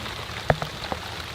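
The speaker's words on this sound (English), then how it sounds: "it's starting to rain quite hard now" Rain comes down hard with a steady hiss, and a few sharp drops smack a nearby surface.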